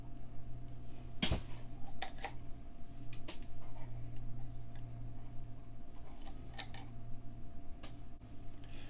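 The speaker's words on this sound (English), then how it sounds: "Cut the top off, pull the insides out" A bell pepper is cut and hollowed out on a kitchen counter, bringing a few sharp knife snaps and scattered light taps and rustles over a low steady hum.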